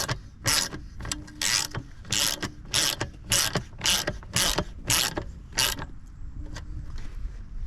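A socket wrench with a 10mm socket ratchets a bolt in a steady series of about ten crisp, close clicking strokes, heard alone.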